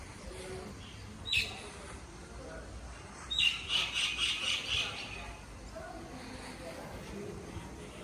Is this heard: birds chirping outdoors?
yes